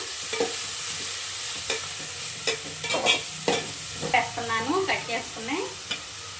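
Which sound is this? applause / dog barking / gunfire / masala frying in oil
masala frying in oil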